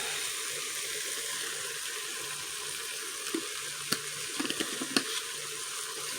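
Ground meat with chopped onion and chili powder sizzles steadily in a hot pan, a continuous frying hiss with a few faint clicks and pops near the end, no one talking.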